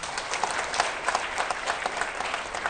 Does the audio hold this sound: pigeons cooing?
no